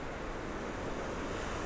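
Strong ocean current flowing under the Golden Gate Bridge, heard as a steady, dense wash of moving water and surf, with a little wind noise and no voices.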